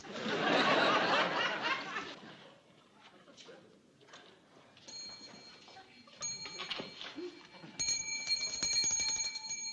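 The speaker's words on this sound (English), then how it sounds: "if I don't jump every time she rings that bell" A hand bell is rung in an indoor sitcom scene, giving a few clear, bright rings in the second half that follow a burst of laughter and murmuring voices.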